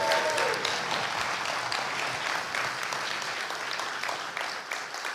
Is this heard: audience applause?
yes